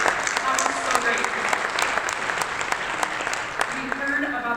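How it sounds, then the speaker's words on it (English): An audience at a panel session of the Close It 2026 event in Santa Fe, New Mexico, claps steadily, a dense, continuous round of applause with voices mixed in. "let's give you guys a round of applause"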